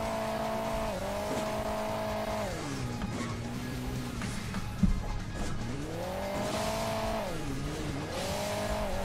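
A monster truck in Hill Climb Racing 2 drives on, its game engine droning loudly and steadily. The pitch rises and falls as the throttle revs up and eases off, with a brief thump midway and no talk.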